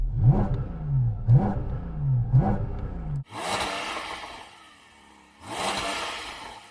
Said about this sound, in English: Yanni, let's rev up the GT4 RS.